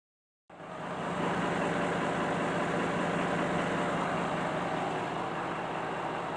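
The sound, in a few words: Volkswagen Touareg V10 TDI engine idling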